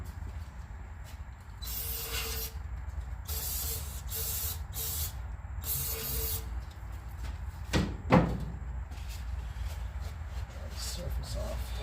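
Carburetor cleaner sprayed onto the carburetor of a 1961 Chevy Bel Air, heard as several hissing aerosol bursts of a few seconds each, with a sharp clank near the end over steady background noise.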